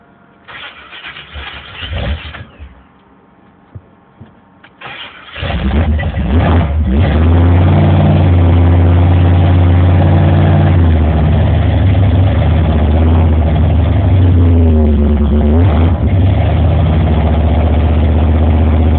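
A 1987 Buick Regal with a Stage-1 455 engine and MSD-6AL-2 ignition cranks and catches about five seconds in, then settles into a loud, steady, rumbling idle that fills the rest of the clip.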